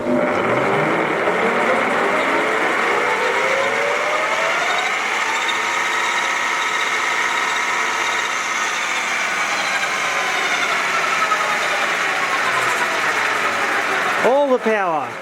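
A vintage Russian Stanko 1a616 lathe, a heavy machine, runs up with rising mechanical whine and rumble that levels into a steady drone, then a sweeping pitch change near the end; a person talks over it.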